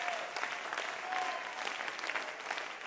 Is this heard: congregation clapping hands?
yes